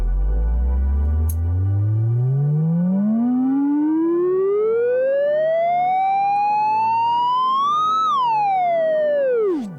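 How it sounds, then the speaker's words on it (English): A held synth note with a bandpass filter sweep glides steadily upward over about eight seconds, then drops sharply at the end, loud and continuous like a rising siren, with no talk. "The bandpass is great on that synth."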